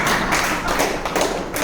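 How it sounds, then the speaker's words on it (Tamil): Two or three people keep clapping by hand in a quick, uneven run of close, dense slaps that last without a pause. "இங்கே 2-3 பேர் மட்டும்தான் கைதட்டிட்டே இருக்காங்க"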